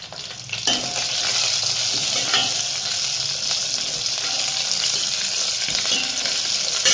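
Green chillies tossed into a spluttering ajwain tempering for rasam set off a loud, close, continuous sizzle and crackle, with a sharp burst as they hit the oil and light stirring throughout.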